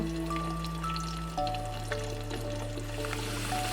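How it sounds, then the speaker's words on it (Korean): Garlic confit cooking slowly in oil over very low heat, a faint, soft bubbling and fizz beneath a steady low background hum. "처음에 이렇게 기포가 뽁뽁뽁뽁 올라오고요"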